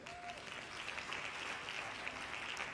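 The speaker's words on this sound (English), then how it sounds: "Hand claps to that." Steady applause from a crowd, many hands clapping in a dense, even wash that holds at moderate loudness for the whole span, heard at some distance with no talk over it.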